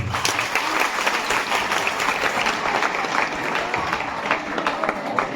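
Class 10 and 12 students at a high school graduation ceremony break into loud, sustained applause, with dense clapping filling the hall and a few voices mixed in.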